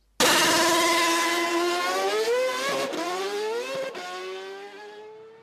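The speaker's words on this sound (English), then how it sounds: "A real example of the ferocity of a Formula One car." A Formula One car engine revs hard, a loud, high-pitched scream that climbs and shifts pitch over several seconds, dominating the scene at the 2012 Chinese Grand Prix with no talk.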